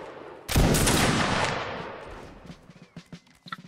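A musket volley in a Napoleonic Wars line battle video game, one loud crackling burst of many shots fired together, decaying over a second or two, then scattered faint clicks and a few later isolated shots.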